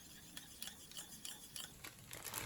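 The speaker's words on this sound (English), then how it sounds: "Once the pork starts to change color, add the onion and stir-fry briefly." Pork and onion stir-fried in a pan for a Japanese family dinner, with faint scraping and clinking of a utensil stirring against the pan under a soft, steady sizzle, close and quiet without talk.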